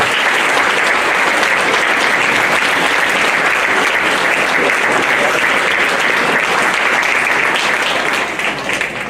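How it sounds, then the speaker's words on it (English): Loud, dense applause from an audience at a school board meeting honoring students, a steady wash of many hands clapping that holds for about eight seconds before thinning out at the end. "Let's give them another round of applause."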